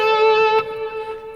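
An electric guitar with distortion rings out a sustained, buzzing note, fading slightly as a second note is struck partway through.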